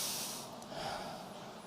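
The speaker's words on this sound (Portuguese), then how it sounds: "Dá uma respirada aí, dá uma fungada aí" A person takes a short, sharp sniff and inhales briefly through the nose, a quick breathy rush followed by softer breath noise, close and alone with no talking.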